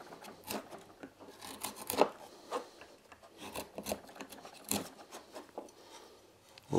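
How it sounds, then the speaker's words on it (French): A chisel shaves the sides of a wooden dowel in short, irregular rasping strokes, with sharp scraping cuts and pauses between them, heard close and alone. "il va falloir prendre un ciseau et on va enlever un tout petit peu de matière sur les côtés"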